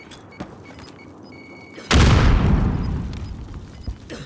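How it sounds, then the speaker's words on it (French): A grenade going off in a video game: a single sudden loud boom that bursts in and slowly decays over a couple of seconds, with quieter game sounds before it. "Grenade!"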